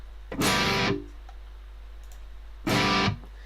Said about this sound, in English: you only hear the wet signal. So none of your actual playing, everything is just the reverb